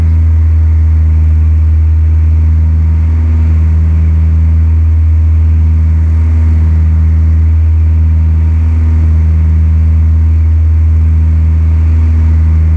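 Steady, loud droning engine of an aircraft in Flight Simulator 2004 while the throttle is advanced, a constant low hum with strong harmonic tones and no clear change in pitch, running throughout with no talking.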